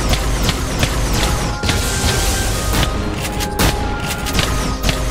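Rapid gunfire in a Minecraft battle against lava creatures, a fast stream of mechanical clicking shots with heavier booms mixed in, loud and close and continuous.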